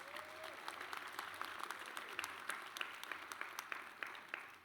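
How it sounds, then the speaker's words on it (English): Audience applause for a university Founders' Day planning committee fills the space, a steady wash of many hands clapping from start to finish, with a few voices briefly audible underneath. "Please give them a rousing round of applause."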